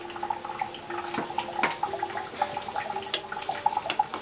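Bombay chilies, about 25 to 30 of them, tipped into a pot of boiling water, giving a steady bubbling, splashing wash with a few sharper drips and plops, moderately close and free of talk.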